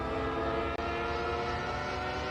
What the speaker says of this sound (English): I love the train whistle.